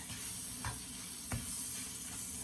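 Garlic and herb croutons made from day-old bread being stirred in a pan, a low steady sizzle with two or three soft scraping strokes, close and quiet, no talking.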